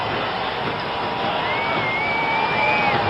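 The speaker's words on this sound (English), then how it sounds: "you can hear a great deal of cheering" A crowd cheers as President Nixon's motorcade passes along the route from the Capitol toward the White House at his 1973 second inauguration. The roar is steady and dense and fills the whole stretch, with shrill whistles rising over it.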